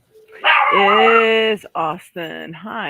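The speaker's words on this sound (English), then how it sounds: "My dogs are about to bark." Dogs bark indoors, close and loud, in a long drawn-out howling bark and then a few shorter ones, with a person briefly speaking among them.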